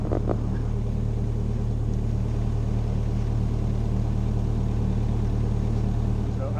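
An excavator engine runs at a steady idle while its arm holds the weight of a log in a garden, a constant low droning hum with no change in pitch.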